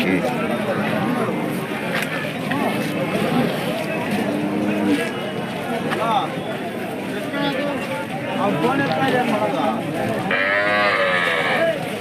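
Hallikar cattle lowing at a busy cattle market in Gubbi taluk, with steady chatter and background bustle throughout; the moos are mixed into the crowd sound rather than standing alone.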